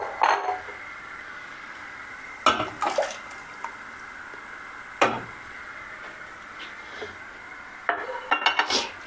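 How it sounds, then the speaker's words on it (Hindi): A few separate clinks and clatters as soup ingredients drop into water in a metal pressure cooker pot, spaced apart with quiet moments between, busier near the end. "अब ये तमाम चीज़ें मैं इस कुकर में जो पानी है इसमें शामिल कर दूँगी।"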